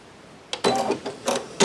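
An embroidery machine starts stitching an HTV applique on a shirt, giving a few short close mechanical whirring bursts separated by brief gaps.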